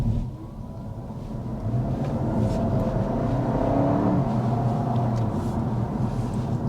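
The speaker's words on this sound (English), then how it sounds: "let's go ahead and start with a hard acceleration" A 2025 Honda Civic Hybrid under hard acceleration, a low steady engine rumble that swells after the first second and holds strong with a rising tonal drone.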